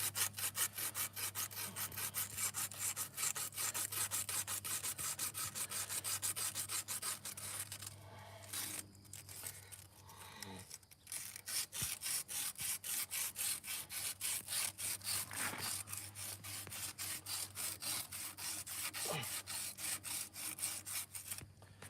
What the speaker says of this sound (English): mainly just getting some of the flaky rust off it so the plastic twine wants to actually slide off